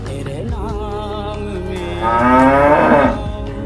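A cow at a cattle sale lets out one long, loud, close moo that rises and swells in the middle, with the animal's low voice dominating and no talk over it.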